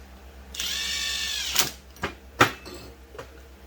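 A power drill briefly whirs on a Stihl BR 600 backpack blower as a bolt is driven back in, a steady close buzz followed by a few sharp clicks and knocks of the tool.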